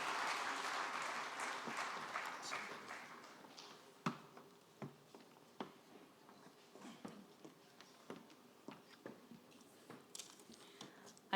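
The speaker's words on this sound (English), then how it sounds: "I think Mr. Dahiro deserves another round of applause." Applause from a crowd at a national teachers summit in Nigeria starts full and fades into scattered, separate claps that continue sporadically until the end.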